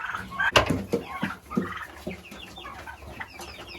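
Farm turkeys fed fresh-cut grass gobble and cluck up close, a rapid burst of loud calls near the start followed by softer, irregular chatter and scuffling from the flock.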